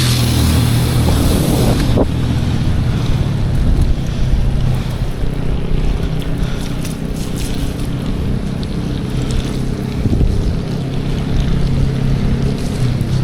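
Flood water overflowing the drains onto a street in Legazpi City, a loud continuous rushing wash heavily mixed with wind buffeting the microphone, with no speech.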